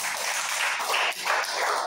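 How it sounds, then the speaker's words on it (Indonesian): Audience at a village cooperative founding ceremony in Ilinmedo, Maumere, applauds with dense, continuous clapping that holds steady for a couple of seconds. "Mari kita tepuk tangan."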